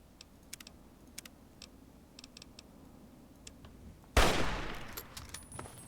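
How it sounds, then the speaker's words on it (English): Gunfire in modded Fallout 3: a sudden loud, broadband blast lands near the end, preceded by sparse faint clicks and ticks, with a rumbling tail. "This gun is way too loud."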